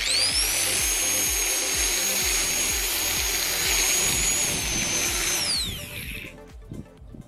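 High-pitched whine of an angle grinder fitted with a cable-tie trimmer spinning at speed, cutting grass, with a rhythmic rumble underneath, then winding down and stopping near the end.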